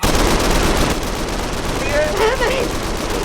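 Heavy, continuous rattle of gunfire with dense low-end bursts throughout, loud and close, with faint talk underneath.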